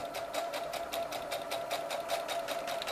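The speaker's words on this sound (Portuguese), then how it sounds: "E agora eu vou costurar até chegar na lingueta." Sewing machine stitching along a fabric strap for a cloth toiletry bag, a fast even mechanical clatter of rapid rhythmic needle strokes, close and continuous.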